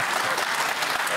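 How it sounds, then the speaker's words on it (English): An audience at a televised panel discussion on faith and politics claps in a brief, dense burst of steady applause. "You can applaud."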